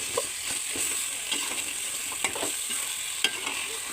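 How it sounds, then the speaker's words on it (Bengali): Beef cooking in a pot of oil, stirred again and again with a utensil, several distinct scraping knocks over a constant low sizzle, no voices. "এই যে মাংসটা আমি বারবার ঢাকনা তুলে নেড়ে নেড়ে দিচ্ছি"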